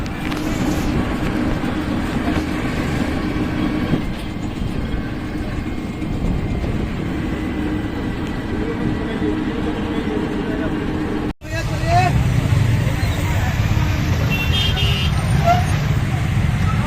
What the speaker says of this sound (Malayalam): ഇത് ബീഹാറിലെ നമ്മുടെ നേപ്പാൾ ബോർഡറിൻ്റെ അടുത്തുള്ള റെക്സോൾ ജംഗ്ഷനിലെ റെയിൽവേ സ്റ്റേഷൻ്റെ അടുത്തുള്ള തിരക്കാണ്